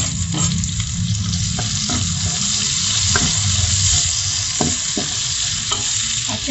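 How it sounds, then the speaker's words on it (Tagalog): Garlic and onion sauté in a kawali for chicken adobo, a loud steady sizzle punctuated by rhythmic scraping of a spatula stirring the pan, with no voices heard. "mag-start na tayo sa ating paggisa. Same kawali, dyan na rin tayo magigisa"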